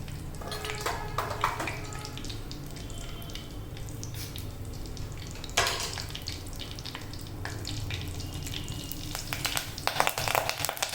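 Mustard seeds, cumin, fenugreek seeds and asafoetida sizzle in hot oil for a traditional eggplant dish, a steady crackling fry with occasional sharp pops and louder spattering bursts toward the end.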